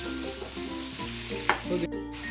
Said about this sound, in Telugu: ఇప్పుడు ఈ టమాటోస్ని కూడా కొంచెంసేపు మగ్గనిద్దాం.